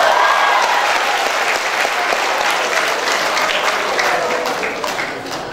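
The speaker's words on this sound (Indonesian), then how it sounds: "Ini tepuk tangan untuk saya atau Pak Sahyan?" An audience at Tadulako University, gathered for a visit by Indonesia's sports and youth minister, breaks into loud, sustained applause that holds steady and eases slightly toward the end.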